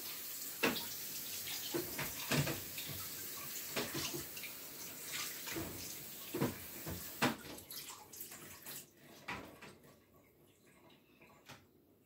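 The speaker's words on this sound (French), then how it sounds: "Après vous rincez." Running water from a kitchen sink tap while dishes are rinsed, a steady hiss with irregular clinks and splashes of items being handled, gradually quieting toward the end, no speech.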